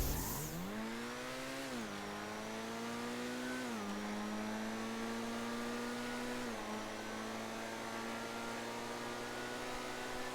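The Overflod Tyrant supercar in GTA Online revs hard and close, its engine pitch climbing steadily with a few brief dips at gear shifts, loud and continuous with no voices.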